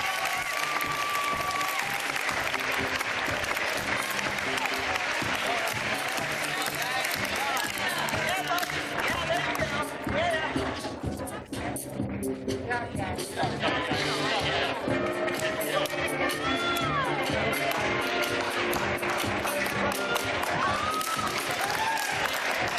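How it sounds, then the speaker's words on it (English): An audience applauds a robotics team, the Cape Crusaders, at a First Lego League competition closing ceremony. Thick, continuous clapping and crowd noise fill the hall from start to finish, with a brief dip midway. "Give a round of applause for Cape Crusaders."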